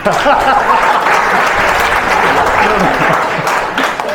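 A lecture audience at IIT Patna breaks into loud, dense applause, a continuous roar of many hands clapping at close range that holds steady throughout, with faint voices mixed in.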